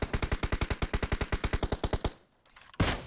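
Automatic gunfire in PUBG Mobile: a fast, evenly spaced burst of about twenty close, loud shots lasting two seconds, followed by a brief lull and one more sharp report.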